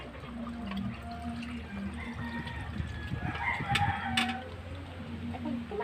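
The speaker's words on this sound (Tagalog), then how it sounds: "Manok, 2 tandang." Two roosters crow in a home garden, their drawn-out calls rising over a low background of hens clucking and faint water, with no speech.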